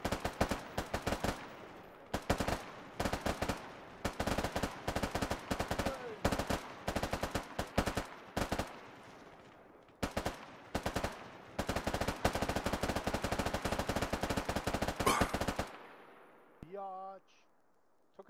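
Gunfire in a military video game set in Operation Melton: dense, sharp automatic bursts and rapid shots for about fifteen seconds, then the firing stops and a faint electronic tone follows.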